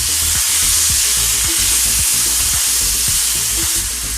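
Onion, tomato and curry leaves sauté in a hot pan with a loud, steady sizzle, broken by regular scraping knocks from stirring, with no voices.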